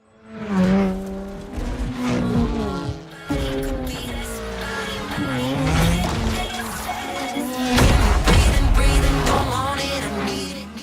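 Cars race in the video game Forza Horizon 4, with loud revving engines shifting pitch through gear changes, punctuated by tire squeals and skids, the sound dense and continuous.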